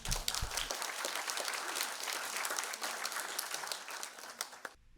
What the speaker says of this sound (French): sous les applaudissements nourris de l'auditoire